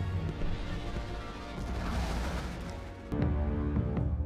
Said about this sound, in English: we're gonna see the Boonta Eve fireworks